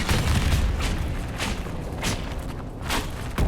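Explosions in Dragon Age Inquisition, a deep rumbling boom with several broad blasts rolling through a thick, continuous low roar.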